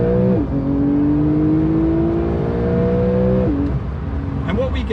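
A Porsche 911 992 Carrera 4S in sport response mode revs loud and close, its engine pitch climbing steadily through a long pull, then dropping sharply at a gear shift before climbing again, with a further shift near the end.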